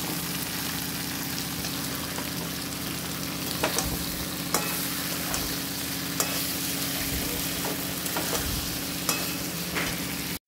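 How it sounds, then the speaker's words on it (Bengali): Jackfruit curry masala being stirred and fried in oil: a continuous sizzle with occasional scraping clicks from a spatula, close and steady with no talking. "এঁচোড়ের মশলাটা খুব ভালোভাবে কষে গেছিলো, সেটি তো তোমাদের খুন্তি দিয়ে তুলে দেখালাম যে তেলটা ছেড়ে দিয়েছে।"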